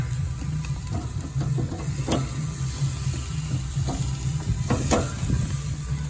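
Steaks cooking outdoors near a harbor give off a steady close sizzle and hiss, with a few sharp crackles and pops rising over it and no talking.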